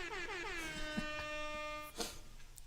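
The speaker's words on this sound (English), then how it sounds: "Got some air horns for that." An air horn blares in a pitch-rising burst and then holds a long steady tone before stopping, followed by a short thump.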